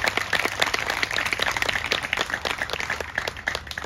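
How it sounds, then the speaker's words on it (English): A crowd at a Fourth of July democracy celebration gives a round of applause, brisk, close clapping with distinct individual claps throughout. "so give yourselves a round of applause. How about that?"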